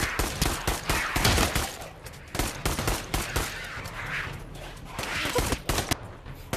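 Rapid gunfire in the VR shooter Pavlov's shack zombies mode, loud close bursts of shots crackling repeatedly with brief gaps throughout.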